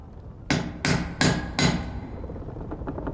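Hammer blows on a piece of copper: four sharp, loud, evenly spaced metallic strikes close by, each ringing briefly before the next, then a lingering hum.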